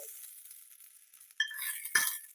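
A spoon scrapes and clinks against a metal pan, pushing tempering into cucumber kichadi, in a few faint light taps followed by two brighter clinks near the end.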